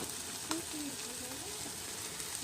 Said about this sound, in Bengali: এই তো আমার মাছ ভাজা হয়ে গেছে প্রায় এখন একটু ঘুরিয়ে ঘুরিয়ে বেজে নিই